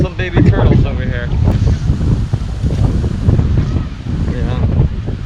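Gusty wind buffets the microphone on an open sandy beach at Praia do Forte, Brazil, a low rumbling roar that rises and falls while someone talks over it.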